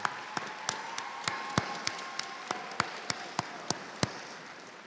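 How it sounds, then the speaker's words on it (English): A few scattered hand claps ring out one at a time at a steady, unhurried pace at a dental college graduation hooding ceremony, thin and sparse rather than a full burst of applause. "let's go ahead and give them applause"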